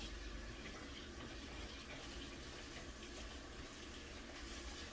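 Tap water pouring steadily into a sink while tomatoes are washed for pico de gallo, a continuous soft splashing rush with no break throughout.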